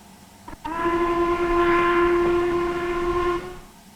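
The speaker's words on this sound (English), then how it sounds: "Above us is the whistle, and if you press spacebar you can sound it." The steam whistle of an LMS Black 5 locomotive in Train Simulator 2015, on the Dumfries to Carlisle route, gives one loud sustained blast of about three seconds, preceded by a brief click.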